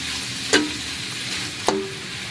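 Boiled pork offal pieces sauté in a pan with a constant even sizzle, broken by two sharp utensil clinks against the pan about a second apart; no talking.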